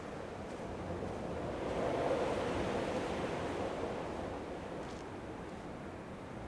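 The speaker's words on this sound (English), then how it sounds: "I like how the waves lap up against the shore" Gentle waves lap against the shore on a quiet island in Dear Esther, a soft, continuous wash of surf that swells slightly and then recedes, faint and unbroken, with no voices.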